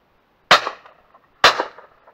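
Two sharp shotgun shots fired at pigeons during a decoying outing, about a second apart, each a loud crack that fades into a short tail in the open air.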